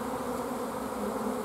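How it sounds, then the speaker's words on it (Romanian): A dense, steady buzzing of a honeybee swarm pouring out of its hive in the rain, a continuous close drone with no voices. "O parte din albinuții. El ies."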